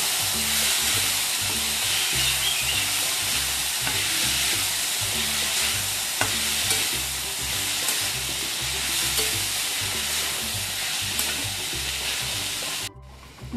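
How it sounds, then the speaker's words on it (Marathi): Onion and tomato frying in a pan for a masala, a steady loud sizzle and crackle with occasional stirring scrapes, continuous close-up hiss that cuts off abruptly near the end. "आता आपला कांदा टॅमॅटो तळून झाले."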